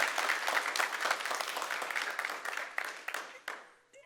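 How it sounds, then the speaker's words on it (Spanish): An audience at a Spanish-language church service bursts into loud, sustained applause, dense clapping that carries on for several seconds before tapering off near the end. "¿Le puedes dar un aplauso a Jesús bien fuerte?"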